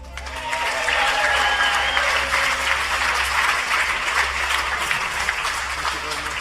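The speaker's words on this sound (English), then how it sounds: "And please, a big applause for the fastest man on the road, our chief test driver, Andy Wallace." Sustained audience applause and cheering for Bugatti chief test driver Andy Wallace at the Molsheim, France exhibition, a dense steady roar of many hands that fills the whole stretch, with a low hum running beneath.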